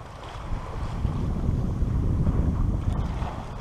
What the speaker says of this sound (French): On est toujours sous voile.